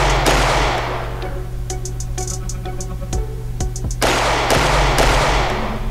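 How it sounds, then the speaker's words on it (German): Sharp cracks of gunfire, several single shots scattered over a loud, constant rumbling background. "Einen Moment später fliegen ihnen schon die ersten Kugeln um die Ohren"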